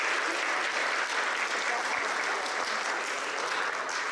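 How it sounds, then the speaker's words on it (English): Wedding guests at a reception at The Intercontinental on the Wharf in Washington, DC break into steady, dense applause, a loud sustained wash of clapping from a large crowd that holds evenly throughout. "we have to give a round of applause to the Nakayama family and the Musella family"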